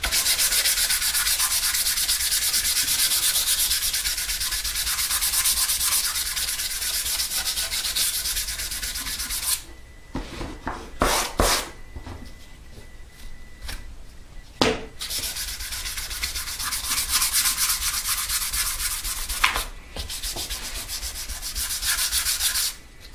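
Sanding the face of a wooden guitar body for a custom nine-string electric build, a loud, continuous, close abrasive hiss that runs for long stretches, breaks off briefly in the middle with a few knocks and handling sounds, then resumes.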